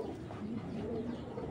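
A Royal Teddy pigeon hen coos softly and continuously as she is let go, a low burbling call close by with no talk over it.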